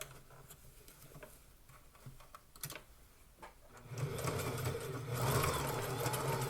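A sewing machine stitches fabric while working on a fitted garment: first soft, irregular ticking and patter, then a louder continuous mechanical whir and rattle as stitching runs steadily for the final seconds.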